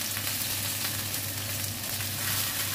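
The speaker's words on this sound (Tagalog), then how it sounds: "Fry muna ang patatas." Potatoes fry in hot oil for spicy fried chicken, giving a steady, even crackling sizzle that holds at moderate level throughout with a low constant hum underneath, no voices.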